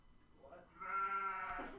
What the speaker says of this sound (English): and a sheep